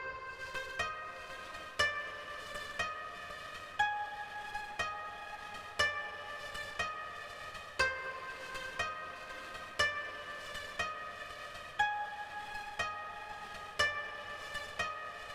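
A plucked string melody from the free DSK World Strings plugin, treated with delay and reverb, plays steady, evenly spaced notes with echoing tails blending into a continuous wash underneath.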